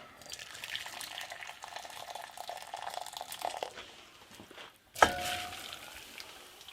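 Water poured quickly into a container of Maruchan roast beef flavor ramen noodles, a steady close pour that stops, followed by a sharp clatter.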